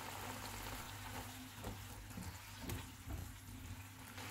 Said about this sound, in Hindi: चूल्हे को मीडियम कर देते हैं और इसको ऑयल अलग होने तक भूनेंगे।